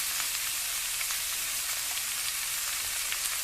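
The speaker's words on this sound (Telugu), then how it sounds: "వీటిని తాలింపు వేసుకోవాలి ఒక ఐదు నిమిషాలు ఈ విధంగా" Chopped tomato and pearl millet vermicelli fry in a pan for upma, giving a steady, close, even sizzle with faint crackles and no talk.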